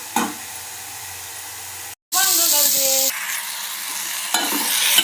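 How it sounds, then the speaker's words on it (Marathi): Brinjal frying and being stirred in a pan for bharit: loud close sizzling and scraping after a brief cut, with a voice heard over the cooking. "थोडंसं वांग घातलं, परतून घेतलं"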